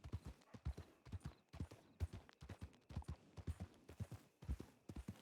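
A small horse clip-clops along in a Red Dead roleplay game, carrying two riders. Its hoofbeats fall in a steady, moderately loud rhythm for several seconds with no voices.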